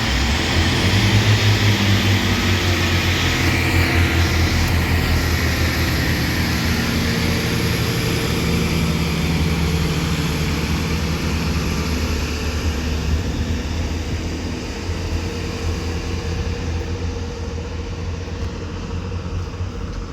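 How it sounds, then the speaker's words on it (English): A doubled-up Chiltern Railways Class 165 diesel multiple unit arrives at High Wycombe station on a service from London Marylebone to Oxford. Its engines rumble and drone loudly and steadily, easing slightly toward the end, with no speech. "this doubled up Chiltern Railways Class 165 arrives into High Wycombe now with the 10:49 Chiltern Railway service to Oxford from London Marylebone"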